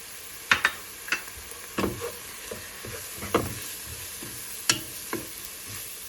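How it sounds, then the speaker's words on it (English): Flour being stirred into soup in a pot, with a spoon scraping and knocking in irregular close strokes over a low background hiss, and no talk. "you'll want to keep stirring this until all of the flour is cooked down"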